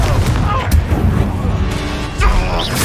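Repeated Confringo spell blasts in the game Hogwarts Legacy, loud booming impacts scattered over a dense, rumbling battle din with shouting voices mixed in.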